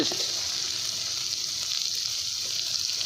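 Sesame paste poured into banana blossom frying in a pan brings a steady, close, bright sizzle that hisses evenly throughout, with no one talking.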